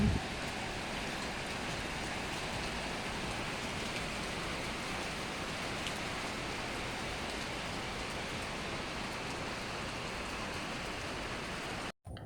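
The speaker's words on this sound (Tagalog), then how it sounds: "Maya-maya, umulan na ng malakas." Heavy rain pours down continuously, a dense, even roar of water drumming on surfaces that stays loud and unbroken until a brief cut near the end.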